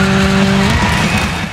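A Ford Fiesta R5 MKII rally car in DiRT 5 on the Kalabaka town uphill stage in Greece, loud engine note with a high rev tone that drops off, mixed with tyre noise and gravel rush.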